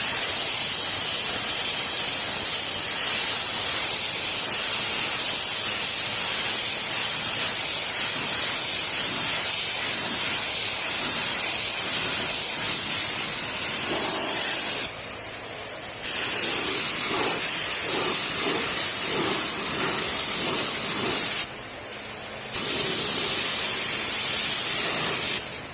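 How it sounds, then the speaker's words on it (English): A spray gun hisses steadily at low pressure while applying 2K primer, a loud continuous airy rush that breaks off briefly twice when the trigger is released before resuming. "we're still gonna spray this low pressure."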